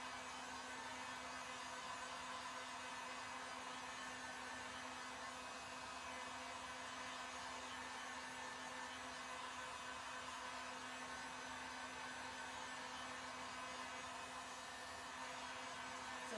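A hair dryer blows steadily and alone for the whole stretch, drying paint on a handmade shabby chic spring bunny sign, with a constant whirring hum and no talk over it.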